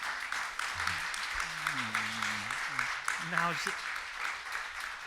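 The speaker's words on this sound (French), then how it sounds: "On peut applaudir." Applause from an audience at a cinema talk runs as a broad, continuous patter throughout, while voices speak briefly over it.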